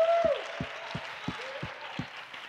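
A single person claps alone in a church during a worship service, six slow, evenly spaced claps ringing in a quiet room.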